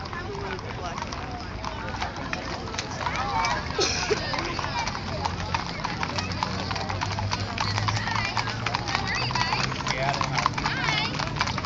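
Horse hooves clip-clop continuously on a downtown street during a cattle drive, a dense rapid clatter of many hooves up close, with crowd chatter and people talking throughout.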